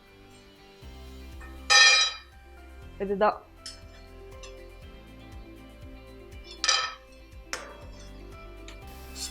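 Fried sweet jaggery seedai balls dropped onto a plate, giving a few sharp, bright clinks and rattles in short bursts, close by, with a speaking voice around them.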